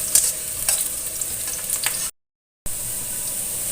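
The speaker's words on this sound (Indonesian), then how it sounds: "Ini tumis bawang merahnya sampai dengan harum." Shallots sauté in a pan for egg balado, a steady bright sizzle with occasional stirring scrapes, cut by a brief silent gap before the frying resumes.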